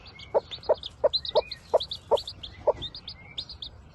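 A mother hen clucks in a steady series of about seven short, close calls, with faint chick chirps and tweets scattered above them in a farmyard setting.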